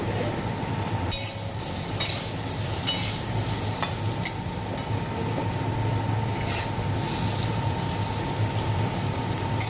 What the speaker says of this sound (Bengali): আলুগুলো মোটামুটি ভাজা ভাজার মতো হয়ে গেছে